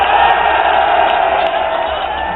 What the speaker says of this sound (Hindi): ताली बजाओ उस बात पे।